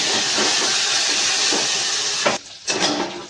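Loud, steady sizzling of garlic tempering frying in hot oil for sambar fills the scene, briefly cutting out and flaring up again near the end.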